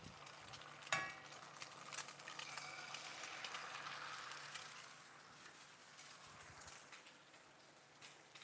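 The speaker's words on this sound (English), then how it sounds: "While that's sizzling behind us" Quiet, steady sizzle of eggs in a pan, faint and somewhat distant, opening with a single sharp knock.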